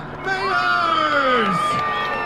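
An outdoor crowd at the Freeride Junior World Championships cheers and whoops for a winning skier, rising sharply after a brief quiet and holding loud, with screams and excited voices sliding over the noise.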